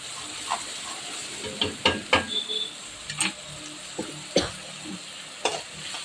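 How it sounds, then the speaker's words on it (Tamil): Ground onion paste and fennel sautéing in a pan for a fish curry, a soft sizzle broken by repeated scraping stirs and ladle clicks, fairly quiet, no speech. "அரைச்ச இந்த வெங்காயம் விழுதும் சோம்பு ரெண்டுத்தையும் போட்டு நல்லா வதக்கிக்கணும்"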